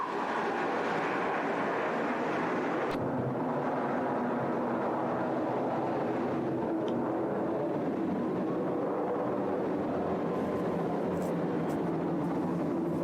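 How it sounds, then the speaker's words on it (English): Blue Angels jet aircraft flying in formation over the water near Alcatraz during an air show, a steady, distant broadband roar that swells and fades gradually with no voices. "the Blue Angels approach Alcatraz with the Delta breakup"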